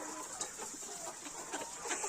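Hens cluck softly across a free-range chicken farm holding about 500 birds, a steady low chorus of overlapping clucks with a few slightly louder calls, heard at moderate distance and fairly faint.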